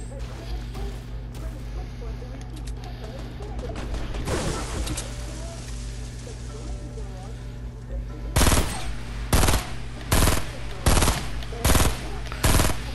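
Rapid bursts of gunfire in the video game Fortnite, sporadic shots early, then a string of loud, sharp automatic volleys in the second half over steady game background hum, with a voice speaking briefly.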